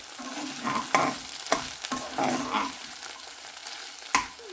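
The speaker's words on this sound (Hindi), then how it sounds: "उसके बाद ये चीज़ें जो मैंने रखी थी, दालचीनी, बड़ी इलायची और लौंग, ये डाल दिए।" Cinnamon, black cardamom and cloves fry in hot oil for a home-style Lahori chana masala, giving a steady close sizzle broken by several sharp scrapes and clinks of a spoon stirring the pan, with no talking.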